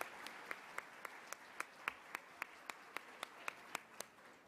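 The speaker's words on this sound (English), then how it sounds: "Let's give them all a round of applause." Audience at a leadership luncheon giving a round of applause, heard as sparse, evenly spaced individual claps, faint and distant in a quiet room.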